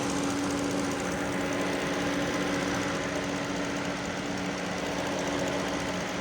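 Bentley car engine idling after repair work for a starting problem, a steady, even running hum with a low tonal drone that holds throughout without change or revving, and no talking.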